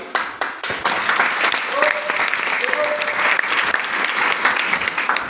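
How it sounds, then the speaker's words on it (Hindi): An audience at a meeting breaks into sustained applause, loud and dense clapping from many hands that fills the whole stretch without a break. "ताली बजाने से कुछ नहीं होगा"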